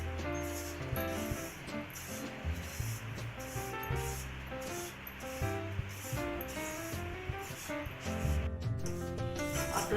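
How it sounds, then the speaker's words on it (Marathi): Dry semolina scrapes and rubs steadily against a pan as it is stirred continuously while roasting for Diwali karanji, a close, constant gritty rasp with underlying rhythmic tones. "सतत याला हलवत राहायचं आहे याला चिपकू द्यायचा नाही खाली गुलाबी कलर होईपर्यंत याला हलवत राहायचं"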